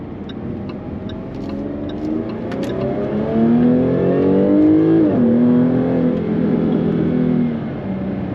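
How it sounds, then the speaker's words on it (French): A Jaguar F-Type coupé with a 3.0 V6 and eight-speed automatic accelerates hard in dynamic mode, its engine note rising loudly through the revs, then dropping at a gear change before climbing again, heard from inside. "le véhicule va venir monter dans les tours et passer les rapports plus tardivement"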